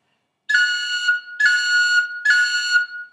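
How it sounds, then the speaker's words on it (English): Three short, clear notes on a whistle, each a high F ornamented with a quick cut from the G finger, played close and solo with brief pauses between them. "So here's a high F cut, and I'm going to cut it with my G finger."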